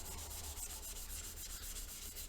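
Abrasive sanding back a lacquered wooden pear vase between coats, a steady continuous rubbing hiss with no pauses, fairly quiet and close, no voices.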